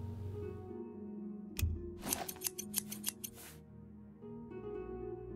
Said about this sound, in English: In theory, I should use the scissors